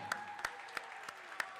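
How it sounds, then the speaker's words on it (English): Faint, distant applause from a high school basketball crowd in a gym on senior night during the KC vs Williamsburg game: scattered claps and sharp isolated pops over a quiet, hollow room tone. "A big round of applause."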